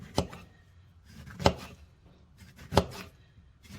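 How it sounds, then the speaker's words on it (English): A knife slices through fresh lemons on a cutting board, giving three distinct, evenly spaced chops, close and fairly quiet, with soft handling noise between them. "We're just going to slice those babies up."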